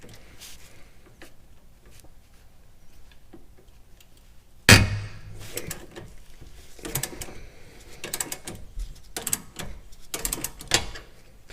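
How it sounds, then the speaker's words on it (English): Wrenches working a sway bar end link on a 2009 GMC Yukon 2WD, faint ticking before a sudden loud metallic clank, then repeated ratcheting clicks and metal taps. "let's get our wrenches out and see how hard this one is to take"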